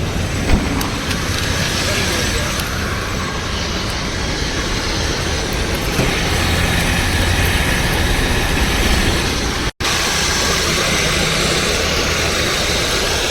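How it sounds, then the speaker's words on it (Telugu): A Nissan Micra for sale idles with its engine running, a steady continuous hum and whir, close and loud, with a brief dropout near the end. "ఇంజిన్ చూసుకోవచ్చు, చాలా స్మూత్గా అయితే ఉందండి"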